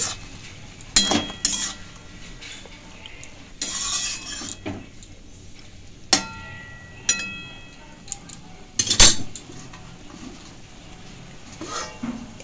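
A spoon clinks and scrapes against a pan as veg Maggi noodles are stirred with their masala, giving sporadic sharp metallic knocks over a soft background with no talking.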